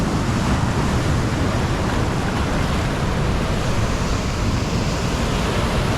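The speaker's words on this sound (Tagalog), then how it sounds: "sobrang lakas ng alon" Steady, loud roar of heavy surf crashing on a beach in La Union, Philippines, blended with wind buffeting the microphone, with no voices.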